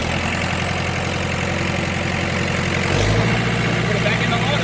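An Olin 575 concrete pump's engine runs steadily and fairly loud, its low drone rising in level and pitch partway through as it revs or loads up. No one speaks over it.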